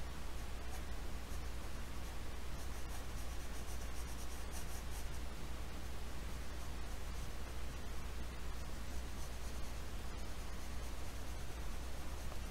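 A very hard, dark pencil scratches and rubs across paper in continuous strokes while a barn-and-tree landscape is sketched, soft and close over faint background hiss, with no voices.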